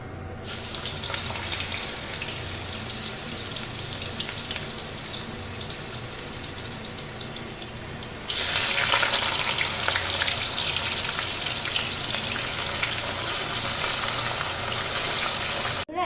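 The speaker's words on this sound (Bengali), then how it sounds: "তেলটা একদম গরম হয়ে গেছে এবার এই তেলের মধ্যে আমি আস্তে আস্তে কুচোরটাকে দিয়ে দেব" Young jackfruit pieces frying in very hot oil in a kadai for a prawn curry, a dense steady sizzle and crackle that grows louder partway through as more pieces go in, with no speech.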